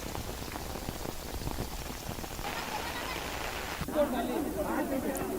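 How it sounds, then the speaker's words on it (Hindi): Heavy rain pours steadily during hours of downpour in Rajasthan, a dense continuous hiss of drops on surfaces that swells louder partway through, with faint speech babble in the background. "घंटों बरसात हो रही है।"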